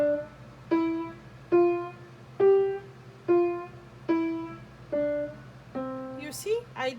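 Detached piano notes played non-legato, a rising run of separated single tones with short gaps between each, close and clear, followed by a brief voice at the end.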